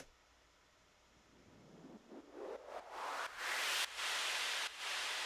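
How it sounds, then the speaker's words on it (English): A white noise sweep through a bandpass filter rises from near silence into a bright hiss, swelling steadily louder over a few seconds and chopped into rhythmic pulses as it climbs, alone with no voices. "there's only one sweep sound in the whole track, and it's this silent white noise sweep"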